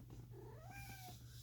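A single drawn-out cat meow rising then falling, close and quiet, over a low steady hum.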